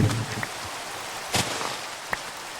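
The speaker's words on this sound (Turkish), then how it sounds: "Oğlum yağmur yarım yıldır yağıyor ya." Steady rain pours in the Minecraft world, a continuous even hiss with a few soft sharp ticks scattered through it and no voices.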